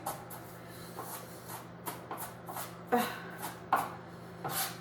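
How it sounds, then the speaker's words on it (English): Knife chopping a strong onion in a home kitchen, a run of irregular soft thuds and scrapes on a board, moderately close, with a steady low hum underneath and no talking. "chop this onion. Whew, strong onion."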